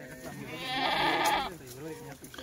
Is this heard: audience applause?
no